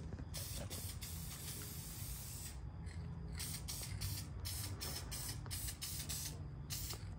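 Hissing bursts of aerosol spray paint aimed up under the bottom of a car seat, several short sprays in quick succession with brief gaps, close by and fairly quiet.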